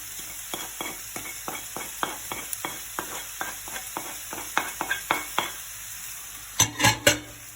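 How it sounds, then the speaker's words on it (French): Spiced carrot and minced-meat filling for a stuffed courgette tart is stirred in a pan, a steady series of close scraping strokes over a faint background sizzle, ending in a few louder clinks of the utensil against the pan. "On va mélanger tout ça."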